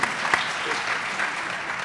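An audience at a political dialogue applauds with dense, steady clapping that holds at an even level with no break.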